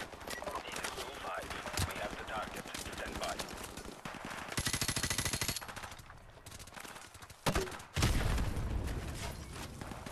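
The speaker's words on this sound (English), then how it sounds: "Explosion. It's grenade launcher." Call of Duty 4: Modern Warfare Remastered campaign combat, with rapid automatic gunfire rattling almost continuously, heavier bursts and a grenade launcher blast near the end, while players talk over it.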